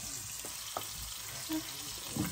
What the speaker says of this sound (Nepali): अब चाहिँ म आलु फ्राई गर्न लागेको।